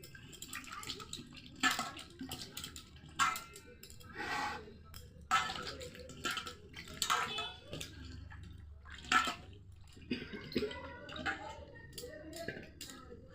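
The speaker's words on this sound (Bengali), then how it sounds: "চলুন আলুটা আমরা ভালো করে ধুয়ে নিই।" Potatoes being rinsed in water for a village-style stuffed pointed gourd recipe, with intermittent splashing and sloshing bursts close by, interleaved with quieter stretches and handling noises.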